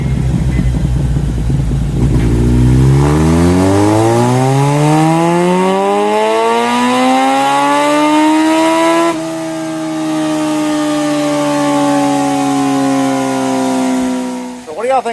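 A 2022 Kawasaki Z900RS with its stock muffler revs on a dyno, rising steadily higher in one long loud pull, holding near the top, then dropping off sharply at the end.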